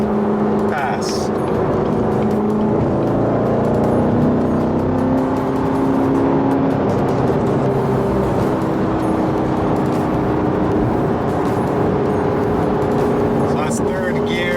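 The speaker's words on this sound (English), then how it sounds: "That's what she sounds like on the highway with the AWE touring exhaust." A Chevrolet Corvette C7 fitted with an AWE touring exhaust cruises and passes another car on the highway, its engine a steady low drone with road and wind noise throughout, heard from inside the car.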